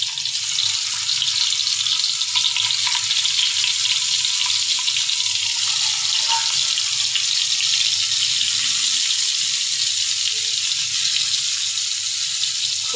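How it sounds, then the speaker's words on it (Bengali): Shrimp and small poa fish fry in hot oil, giving a steady, dense sizzling hiss that holds at an even level throughout, with no talk over it. "তো তেলটা গরম হয়ে গেছে, এর মধ্যে আমি মাছ দিয়ে দিব।"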